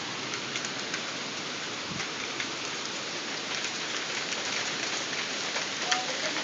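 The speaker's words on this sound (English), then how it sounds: "Oh, we're getting hail." Hail falls during a tornado storm, a steady wash of dense pattering and hiss over a broad area, with scattered harder impacts and a low thud near the start.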